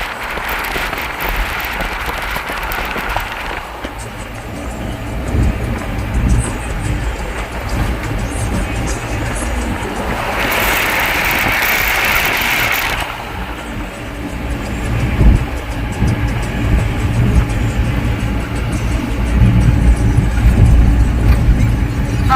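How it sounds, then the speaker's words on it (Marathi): Fast vehicles rushing past on a highway road near Nagpur, a steady loud broadband roar with swelling whooshes as traffic goes by close, wind-buffeted and continuous throughout. "कसले फास्ट गाड्या जातात."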